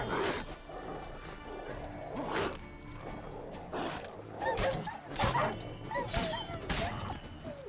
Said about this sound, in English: A wild dog.